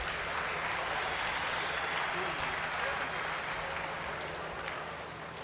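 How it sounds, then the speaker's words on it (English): At a department degree distribution ceremony, the audience applauds the MTech graduates with a steady, moderately distant wash of clapping that gradually fades toward the end. "Let's give a big round of applause to all our MTech graduates."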